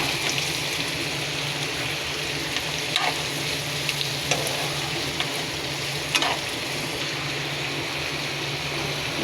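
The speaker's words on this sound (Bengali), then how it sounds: "আমি এখন মিষ্টি কুমড়া ভাজি করব।" Sweet pumpkin sizzles steadily in a frying pan, a continuous close hiss with a few faint scrapes and clicks from stirring, no voices.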